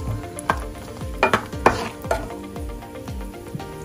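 Cashew nuts fry in hot ghee in a pan with a steady sizzle, while a spoon scrapes and stirs in repeated strokes about every half second, close and fairly loud, with no talking.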